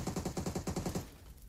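Rapid automatic gunfire in PUBG Mobile, a quick string of about a dozen evenly spaced shots lasting roughly a second before cutting off, heard alone with no talk.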